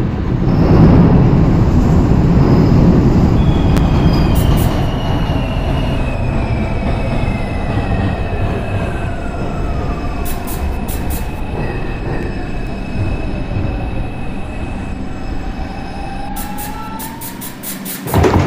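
A simulated R142 New York City subway train on the 6 line rolls along loud and close, with a steady rumble, rising and falling motor whine and squealing wheels, and a few short electronic chimes at intervals.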